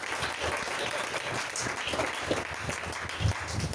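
A church congregation applauds in steady, dense clapping throughout, fairly distant and even, with faint voices mixed in.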